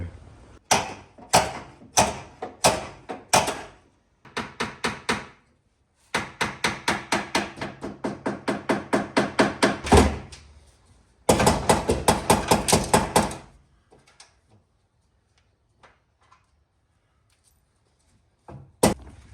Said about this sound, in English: I'm just going to try to smack it with a hammer and see if we can get it flat